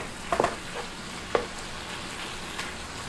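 Flour and meat cook in a pan over low heat for a cottage pie filling, with a few soft scrapes and stirs against a faint steady sizzle, quiet and close, no voices.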